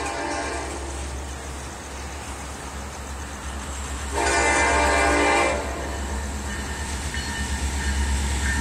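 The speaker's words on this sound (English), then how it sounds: "Here comes the train." A train rolls past with a loud, sustained horn blast in the middle, set against a steady low rumble of rail noise.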